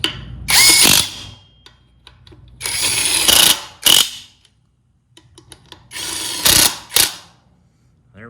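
An Alloyman 1/2-inch impact wrench tightens lug nuts back onto a wheel in several loud, close bursts of rattling hammering, some long and some short, with quiet gaps between them.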